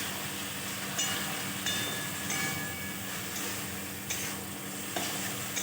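A paste of ground chili, ginger and mixed vegetable spice fries in a pan over a full gas flame, with a soft, steady sizzle broken by periodic scraping stirs of a spatula.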